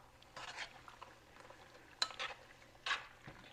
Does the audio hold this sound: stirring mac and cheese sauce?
yes